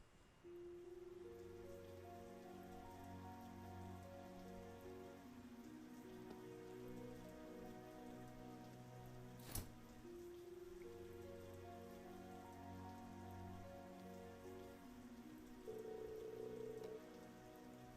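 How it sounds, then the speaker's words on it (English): Heavy rain in the video game Trails of Cold Steel 3 patters steadily on surfaces under soft background music, with one brief sharp accent partway through. "Oh no! I didn't think it was raining this hard."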